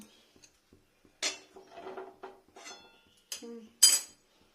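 Metal tongs and utensils clink and clatter in short, sharp bursts while someone rummages under an oven in a home kitchen, with pauses between the rattles.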